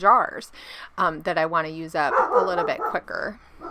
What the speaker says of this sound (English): I am just going to apologize for loud dogs.